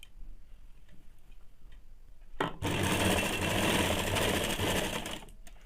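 A sewing machine stitches a half-inch seam on a ladies' pant, starting abruptly after a quiet stretch and running loud and steady for about three seconds before easing off.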